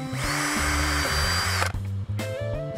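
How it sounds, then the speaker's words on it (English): A power drill whines loudly and steadily, its pitch shifting as it bites through a metal door enclosure at the bolt, then stops briefly before restarting. "drill right where about where the bolt, right, right about where the bolt is and drill all the way through"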